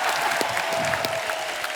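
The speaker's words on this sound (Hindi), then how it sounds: "जोरदार तालियां।" Loud, dense applause from a studio audience at a comedy television show, a steady continuous wash of clapping from a large crowd throughout.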